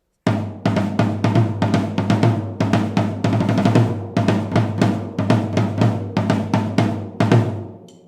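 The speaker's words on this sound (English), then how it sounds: "This is a 14-inch floor tom." A 14-inch floor tom struck repeatedly in quick patterns, each hit a deep resonant boom with a fast decay, loud and close with no talk.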